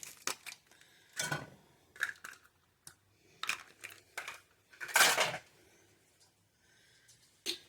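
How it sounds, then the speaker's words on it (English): Frozen onions tumbling into a pan on a stovetop set to medium heat, landing as a scatter of close, crisp clattering bursts with short quiet gaps between them; no one talks. "I'm going to take my frozen onions and put those in the pan"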